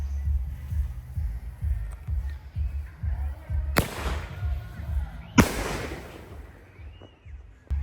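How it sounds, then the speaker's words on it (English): A green Miracle canister shell firework goes off in two loud, sharp bursts, each followed by a crackling, hissing decay, over a low rumbling outdoor background. "here is one of the Miracle fireworks. This is the canister shells."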